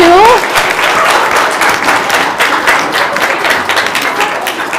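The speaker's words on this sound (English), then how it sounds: "Can we give those 2 some huge applause for being the final 2?" Loud, sustained applause from a school audience at a Battle of the Books competition in a middle school arts center, dense clapping that holds steady for several seconds after a brief voice at the start.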